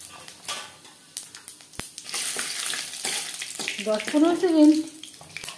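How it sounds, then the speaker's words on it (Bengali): Five-spice tempering (panch phoron) sizzles in oil left from frying tilapia, a soft crackling fry heard under a person talking, growing louder toward the end. "মাছ ভেজে নেওয়া তেলে ফোড়নে দিয়ে দিলাম"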